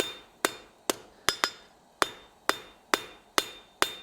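A blacksmith hammers hot steel on an anvil, about ten sharp ringing strikes in an uneven rhythm, a couple doubled in quick succession, each decaying with a bright metallic ring.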